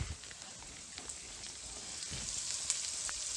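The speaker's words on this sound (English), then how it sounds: "The garlic's really fragrant. Smells really good. Everything's sizzling." Bacon and garlic sizzle in a pan, a soft steady crackling hiss with faint pops, fairly quiet and close, with no one talking.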